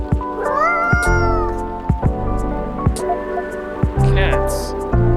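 A cat in the video game Coffee Talk meows repeatedly, several clear, close, drawn-out cries set against a soft background of game music.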